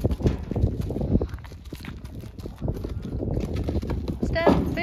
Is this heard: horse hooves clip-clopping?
yes